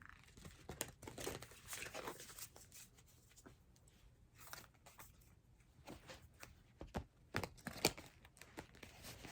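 Soft riffling and papery flicks of a tarot card deck being shuffled, close and quiet, in uneven bursts.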